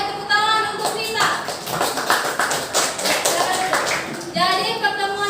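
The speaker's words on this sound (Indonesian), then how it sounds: "Ayo tepuk tangan untuk Vita" Students in a classroom clap for a classmate, a brisk burst of many hands that rises after a moment and carries on steadily, with voices briefly heard at the start and end.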